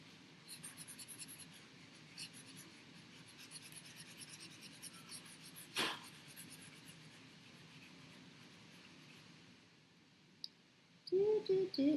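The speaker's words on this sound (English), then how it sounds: "Now I'm erasing." A whiteboard being erased during a geometry lesson, with a long stretch of soft, steady rubbing and scratching up close, one sharper swipe midway, and brief louder knocks and noises near the end.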